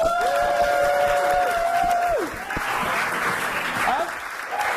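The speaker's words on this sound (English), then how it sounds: "A big hand of applause." A crowd claps steadily throughout, with a whistle-like tone and a voice calling out over the applause.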